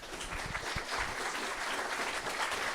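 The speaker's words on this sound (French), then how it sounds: "Je pense que vous méritez une bonne salve d'applaudissements." A short burst of applause from a small group at the end of an interview; moderately quiet, steady clapping with no talking over it.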